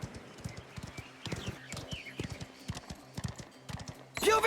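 A horse in a Mafia: The Old Country game scene clip-clops in a quick galloping rhythm, hoofbeats steady and fairly close, with a brief neigh or shout bursting in at the very end.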